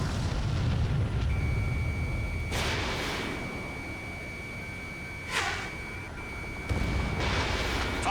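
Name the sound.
radar vehicle destroyed by explosion in video game Ace Combat 7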